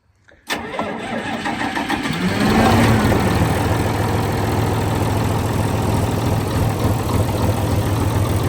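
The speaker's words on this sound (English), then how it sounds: "The diesel runs so much better than the gas one." An old diesel tractor engine, 59 years old, cranks briefly, catches and settles into a steady, loud, close idle that runs on without a break.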